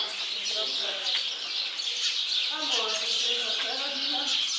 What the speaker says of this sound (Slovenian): Ptički pojejo.